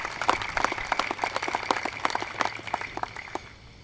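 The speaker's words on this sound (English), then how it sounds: "Let's give Jack McGrory a round of applause," A seated audience applauds Jack McGrory at a proclamation presentation for Pro Kids Golf Academy, steady many-handed clapping with crisp individual claps, moderately near, tapering off near the end.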